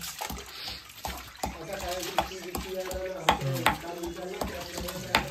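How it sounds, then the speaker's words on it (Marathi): Raw country chicken is washed by hand in water, with repeated sloshing, splashing and squelching strokes at close range, while someone talks over it. "आता चिकन पण मित्रांनो धुवून घेतो"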